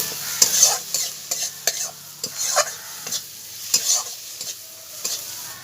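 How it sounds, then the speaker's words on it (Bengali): A spice paste with cumin and coriander powder is sautéed in a pan, heard as repeated close scraping stirs in an uneven rhythm over a light sizzle. "এইভাবে কিছুক্ষণ মশলাটা আমি কষে নেব"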